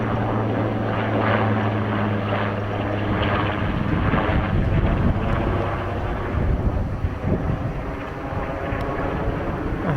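Aircraft engine drone passes overhead above a wooded residential area, with a steady low rotor-like rumble holding loud throughout and some wind buffeting on the microphone, no talking.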